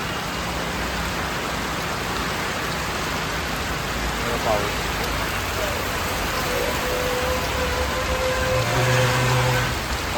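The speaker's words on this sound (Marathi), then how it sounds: "पाऊस बघा किती बेकार पडतो" Heavy rain pours steadily with a dense, even hiss of drops striking surfaces nearby.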